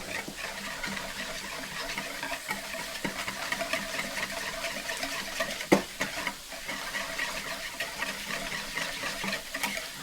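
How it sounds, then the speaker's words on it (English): Seasonings, herbs, garlic and vinegar whisked together into a marinade in a bowl, a steady soft stirring and clinking texture with one sharper tap midway, fairly quiet and without voices. "Now we're just going to whisk that all up"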